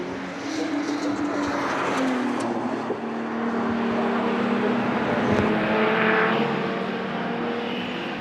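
TVR Tuscan race cars of the Dunlop Tuscan Challenge roar around Oulton Park, a loud sustained engine drone with shifting pitch as cars pass, no speech heard.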